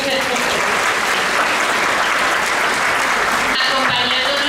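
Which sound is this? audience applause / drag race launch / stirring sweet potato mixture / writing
audience applause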